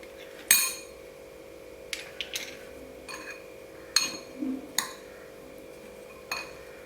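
Several sharp clinks of a spoon against a bowl, spaced irregularly, as mango pickle is stirred and mixed nearby.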